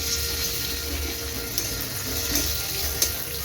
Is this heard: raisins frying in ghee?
yes